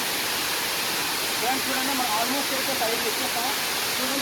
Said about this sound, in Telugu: ఈ వాటర్ ఫాల్స్ చాలా బ్యూటిఫుల్గా ఉంటుంది